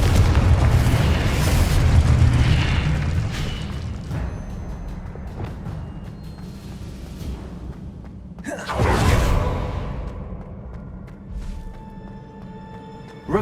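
Spell explosions from the video game Hogwarts Legacy boom loudly with rumbling tails, one at the start and another sharp blast with a whoosh partway through, over continuous game ambience.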